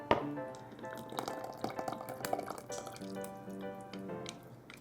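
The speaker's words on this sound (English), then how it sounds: "Let's pour our liquid right into that hole." Liquid ingredients poured into a well of dry ingredients in a mixing bowl for chocolate donut batter, giving soft drips, splashes and wet squishing with light taps of a utensil, close and moderately quiet, with no talking.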